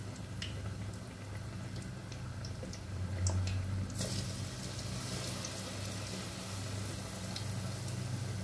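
Chicken fries in hot oil with a constant dense sizzle, sprinkled with sharp crackles and pops, heard up close.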